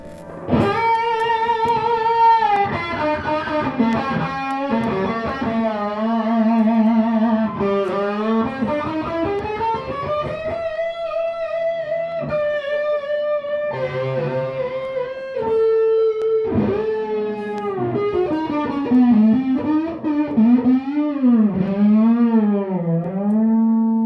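Sustained, heavily distorted electric guitar notes with bends and slides, played alone and loud, with long ringing tones.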